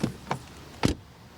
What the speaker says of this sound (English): door closing sound. Pretty solid.